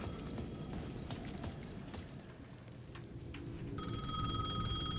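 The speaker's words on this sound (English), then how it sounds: "payphone at the edge of the plaza was ringing again." A payphone rings at the edge of a plaza in the video game Alan Wake 2, its steady electronic tone starting late and sounding over a low ambient rumble and scattered game noises.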